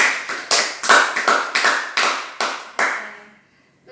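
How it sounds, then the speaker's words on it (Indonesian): A small classroom group claps in irregular bursts of about a dozen sharp hand claps, close and lively, then it fades to quiet near the end. "Oke, dulu tepuk tangan dulu dong."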